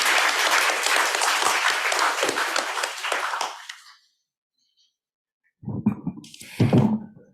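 A lecture-hall audience gives a full round of applause after a history lecture. The clapping is strong for about four seconds, then dies away into silence, followed by a few scattered thumps and brief noises.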